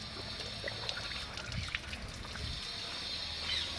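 Water running through a hose during a reverse flush of an engine's coolant system, a faint steady trickle and gurgle with a constant hiss, low and close, no talking.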